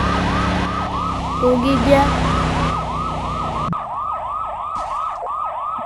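Ambulance siren from a car parking school video game wails in a steady repeating cycle, loud and continuous, with engine hum beneath and someone talking over the first half.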